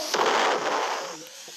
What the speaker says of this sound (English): the missile hit me in the foot and I jumped